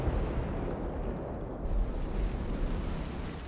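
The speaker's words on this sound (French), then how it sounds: "Uki qui va suicider bombe sur Andrew" A bomb explosion in a tank video game erupts as a dull, rumbling boom that lingers for a few seconds at moderate distance, without talk over it.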